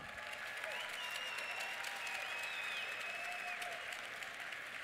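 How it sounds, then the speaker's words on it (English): An audience claps for a volunteer at a seminar, a dense, even patter of applause heard from a distance, with faint whistles or cheers sliding over the clapping. "Let's give Mary a round of applause."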